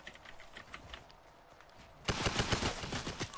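Rapid gunfire in the Fortnite video game, a dense burst of loud shots starting partway through after a quieter stretch of faint game sounds, continuing steadily to the end.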